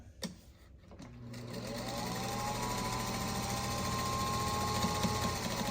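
A sewing machine runs a long continuous stitch along a line through fabric, starting after a few clicks and building to a steady, close mechanical whir that holds to the end.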